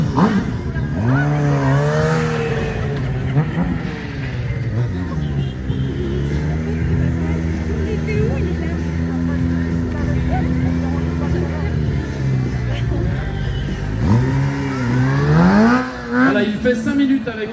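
A Suzuki GSX-R 750 stunt motorcycle revs continuously at a show, with the engine pitch sweeping up and down and held high, loud and fairly close, under an announcer speaking French over a PA.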